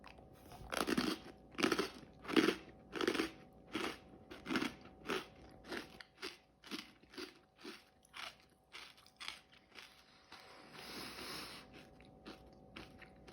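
Someone eating a creamy moldy cheese, with about a dozen close, regular crunchy bites and chewing sounds in a steady rhythm, easing into softer mouth noises near the end.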